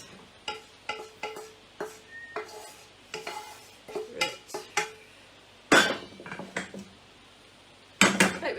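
Pots, pans and metal utensils clatter and clink in a home kitchen as cooked food is moved into another pot, with scattered sharp knocks and scrapes and two louder bangs near the end.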